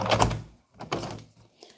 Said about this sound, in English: So let me lock the door because of noise.